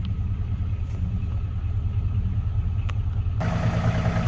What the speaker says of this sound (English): pulling my tractor out of a ditch with my truck